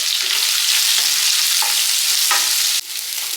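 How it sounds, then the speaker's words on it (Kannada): Onions frying in hot oil with dry red chillies for a spicy pepper chicken, a steady close sizzle with soft stirring scrapes recurring throughout, no voices. "ನಾನು ಈರುಳ್ಳಿನ ಹಾಕ್ಕೊತ ಇದ್ದೀನಿ ಅದನ್ನು ಚೆನ್ನಾಗಿ ಫ್ರೈ ಮಾಡ್ಕೊಳ್ಳಿ"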